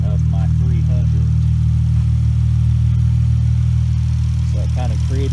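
A Chrysler 300 with a 3.6 Pentistar V6 and a new intake kit drives along, its engine holding a loud, steady drone from start to finish, with a few brief voice-like chirps early and near the end.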